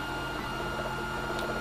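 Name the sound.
3D printer printing a wide angle lens adapter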